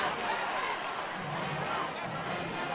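Crowd noise at a high school city championship football game between Brunswick High School and Glynn Academy, a steady loud roar of spectators filling the whole stretch without letup.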